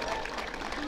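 Applause from an audience at a village festival by a lake, a dense steady patter of clapping under light crowd murmur, sustained for under a second.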